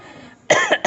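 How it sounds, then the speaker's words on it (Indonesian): A man gives a short burst of two or three harsh, loud coughs close to the microphone, following a moment of faint room quiet. "sorry ya batuk."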